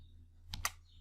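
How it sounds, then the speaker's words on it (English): A single computer keyboard key press during spreadsheet work in Microsoft Excel, a quick pair of close, crisp clicks standing out from a quiet background hum. "Press enter."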